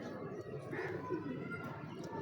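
Soft, low cooing from a crossbred Kasuri pigeon, faint and continuous behind a voice talking nearby.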